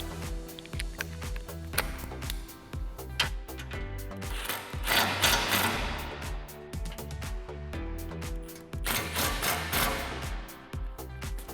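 Ratchet tightening bolts on a 2016-2022 Toyota TRD front skid plate, a steady run of rapid mechanical clicks and ticks that continues throughout, close and fairly loud with no talking.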